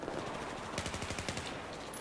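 Rapid bursts of automatic rifle fire from an M416 in the shooter game Battlefield 4, a quick rhythmic volley of close shots at a steady rate with no voice over them.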